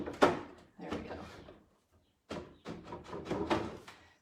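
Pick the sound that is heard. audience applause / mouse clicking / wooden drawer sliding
wooden drawer sliding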